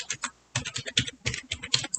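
Quick bursts of keystrokes on a computer keyboard, close and fairly light, with a short pause before the typing resumes in a brisk uneven rhythm, with no talking.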